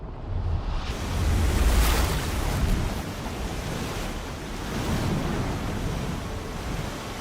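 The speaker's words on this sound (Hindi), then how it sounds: "पानी 17 नंबर पिलर तक पहुंच गया है। पानी का बहाव तेज है" Fast-flowing floodwater rushes in a steady, loud broadband roar in a film scene, surging slightly louder early on and then holding a constant churning wash, with no voices.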